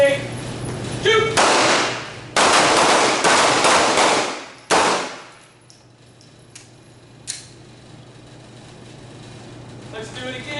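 Handgun shots ring out during a night shooting drill in a combatives class, several sharp, loud cracks in quick succession with long echoing tails, then a quieter stretch with scattered distant reports and voices.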